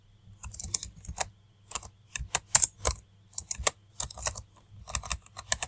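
Fingers typing code on a computer keyboard, bursts of rapid clicking keystrokes separated by short pauses, close and clear, over a low steady hum with no talk.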